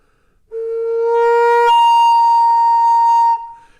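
Native American flute blown too hard on its bottom note, a clear low tone that jumps into a brighter higher octave and holds for a couple of seconds, played alone and close.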